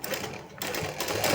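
A sewing machine stitches lace edging onto a small Kanha doll dress, giving a brief, close run of rapid mechanical chattering with a short pause in the middle.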